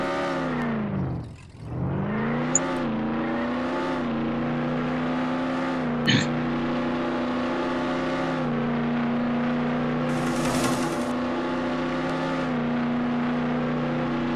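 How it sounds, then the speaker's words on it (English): A fast car in the Roblox game Jailbreak drives out of a garage, its engine droning steadily with rising and falling pitch as it accelerates and shifts, loud and continuous throughout with a brief dip near the start. "This car is really fast."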